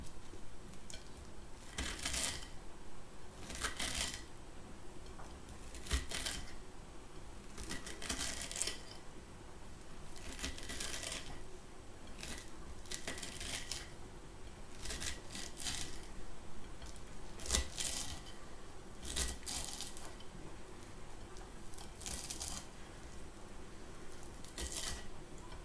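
Salad vegetables cut by hand with a knife on a board at home, giving a steady run of crisp slicing and crunching strokes, close and fairly loud, with no talk.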